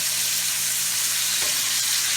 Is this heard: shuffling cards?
no